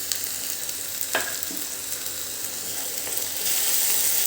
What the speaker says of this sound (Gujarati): એને પણ એક વખત મિક્સ કરી લઈશું અને થોડુંક સાંતળવા દઈશું